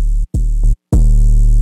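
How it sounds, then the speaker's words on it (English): A hyperpop 808 bass thickened with a saturator, playing three loud, short notes with brief gaps, the last one held and ringing out with a dense, distorted upper layer. "Added a saturator, just beefing it up a little bit."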